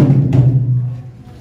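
A single deep hit on a Tahitian drum with a goat or cow skin head booms close up and then rings out, its low resonant tone decaying slowly over a second or so.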